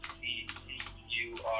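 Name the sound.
typing on a computer keyboard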